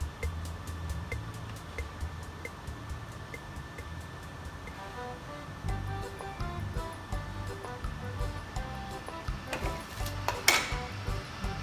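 Bua loy being stirred in a pot over medium-low heat, with a soft continuous scraping and light clinks of a utensil against the pot, low and steady throughout, ending in a brief louder clatter.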